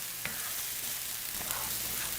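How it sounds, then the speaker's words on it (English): Sambal ingredients sauté in a pan with a soft, steady sizzle and frying hiss, joined by a few faint stirring scrapes, heard alone without talk. "I'm going to saute these for about 10 minutes, get it to a nice reddish brown"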